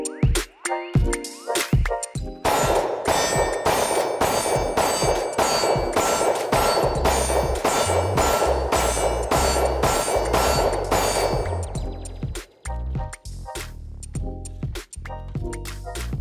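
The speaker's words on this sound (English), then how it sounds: "Let's shoot it." A Springfield XD-M Elite 10mm pistol fires a rapid string of loud shots at a range, each followed by the ringing clang of steel targets, with a few scattered shots before and after the main volley.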